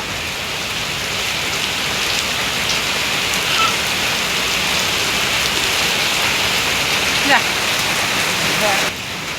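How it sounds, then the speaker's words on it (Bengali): Steady heavy rain pours down outdoors, a dense continuous hiss of drops on surfaces lasting throughout, with a faint voice briefly audible beneath it. "বৃষ্টি নামছে"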